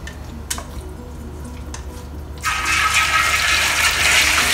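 Beef dropped into hot oil in a wok, a few faint clinks and taps first, then a sudden loud, sustained sizzling hiss that holds steady to the end, with no talking.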